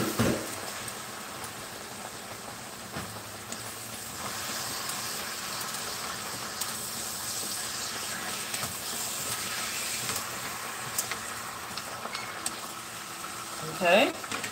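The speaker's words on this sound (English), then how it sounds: "I'm just gonna let the bok choy cook until it wilts down in the pan." Bok choy cooking in a pan with a little water added so it steams, giving a steady low sizzle and hiss throughout, with a brief clatter near the end.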